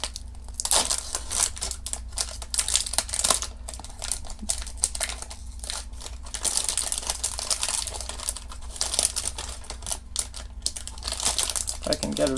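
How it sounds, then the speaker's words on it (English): A sealed foil wrapper on a Polaroid 600 instant film pack is torn open and handled, producing loud, close crinkling and crackling in irregular bursts that continue for several seconds. "you're going to open your film pack, and it's going to come in a sealed foil wrapper."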